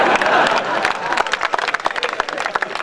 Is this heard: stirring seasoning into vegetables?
no